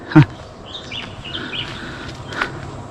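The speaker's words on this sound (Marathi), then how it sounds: "बघा पक्षी मस्त असे ओरडत आहेत सर्व रानातील" Several wild birds chirp and call in short bursts, not too close, over a quiet outdoor background in a cashew and jackfruit orchard, with one sharp knock near the start.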